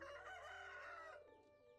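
A chicken in the Stardew Valley farming game, a short bright clucking crow lasting about a second before fading into quiet game ambience.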